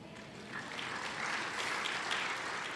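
A church congregation breaks into applause during a Tagalog sermon, a soft, distant wash of clapping that swells slightly after a moment and holds steady, with no talking over it.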